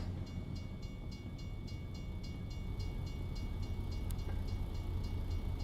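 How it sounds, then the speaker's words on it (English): Slow-moving freight train in American Truck Simulator, a long train passing with a steady low rumble and faint regular clicking of wheels on rail joints, continuous throughout with one brief sharp click near the end. "Bro, that train's moving super slow."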